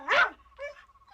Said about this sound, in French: Comme le brave chien continuait à aboyer,